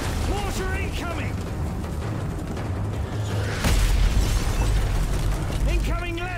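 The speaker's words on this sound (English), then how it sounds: "Mortar incoming!" Mortar rounds exploding in the Call of Duty Modern Warfare 3 video game amid gunfire and a militia battle, booming bursts landing close and loud while shouting voices carry over the chaos.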